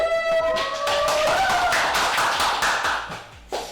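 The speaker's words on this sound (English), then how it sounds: "So we need to clap all the time" Participants clap in a steady, rapid rhythm during a live game routine, a series of sharp close taps, moderately loud, continuing for several seconds with little else around them.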